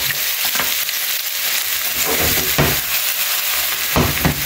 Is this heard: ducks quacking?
no